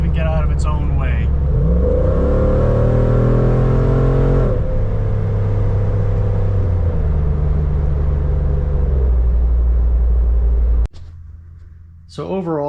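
A Hemi-swapped Jeep engine rumbles loudly while driving, holding a deep steady drone with a rising rev partway through before cutting off near the end, close and dominant.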